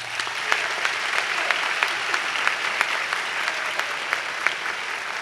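Round of applause at a college honors convocation, a sustained crowd clapping with a few sharper, individual claps standing out in a rhythmic pattern above the dense wash.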